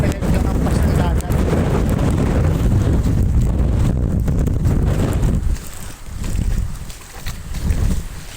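Strong typhoon winds buffet the microphone in Malabon, with a loud, constant roar and rumble of surf against a seawall that eases briefly near the end.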